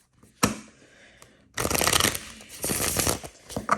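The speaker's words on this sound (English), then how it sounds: "I want to keep shuffling." A mini Halloween tarot card deck being shuffled up close, a sharp riffle snap followed by a longer run of soft, continuous card flutter.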